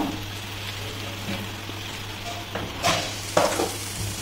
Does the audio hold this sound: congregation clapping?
no